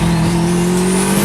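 A turbocharged, all-wheel-drive Subaru WRX with a built 400-horsepower motor revs hard, its loud, steady engine and turbo note climbing slightly in pitch, close up and with no talking.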